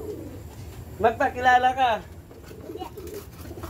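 Pigeons kept by a hobby breeder coo in a short, warbling burst of about a second, close by, with someone speaking briefly before and after.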